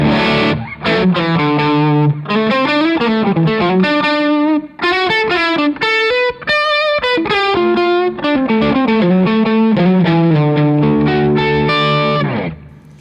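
A gritty, overdriven electric guitar through a Tilt Boost pedal into a Revv amp plays a melodic lead line with sustained, singing notes, loud and alone.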